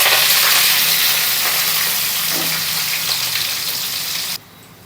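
Curry leaves hitting hot oil with urad dal for a bhindi fry, giving a loud, close, continuous crackling sizzle that eases slightly before cutting off abruptly near the end.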